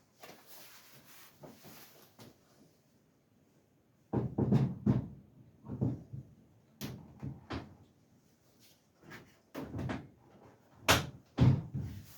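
Door panel being fitted onto a Ford Escort MK1 body during restoration, with a series of solid metallic thuds and clunks in two clusters, fairly close and loud, after a stretch of quiet handling noise.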